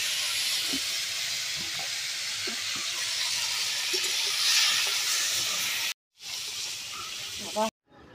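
Fish heads frying in hot oil over a wood-fired clay stove, a loud continuous hiss and sizzle with a few light knocks, cutting out briefly near the end before resuming.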